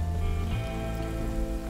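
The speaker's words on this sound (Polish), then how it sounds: "Okej, rozpadał się jeszcze deszcz." Steady rain falls in the survival video game The Forest, a continuous hiss of drops over a low droning game ambience with no talking.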